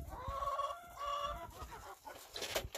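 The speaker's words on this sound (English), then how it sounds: "What you feeding the chickens again?" Several chickens cluck and murmur nearby in short, uneven bursts, with a few louder squawks near the end.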